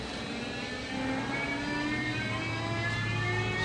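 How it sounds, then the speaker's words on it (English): A rotary air compressor in a shop starts up and winds up into a steady, loud whir, with rising tonal hum lines that climb gradually over a broad constant rush. "I'll walk over to our nice rotary compressor, fire this bad boy up, get the air dryer set up running."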